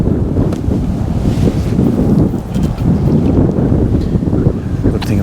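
Strong wind buffets the microphone beside a fishing lake, a steady, loud roaring rumble with gusting swells throughout, no voices over it.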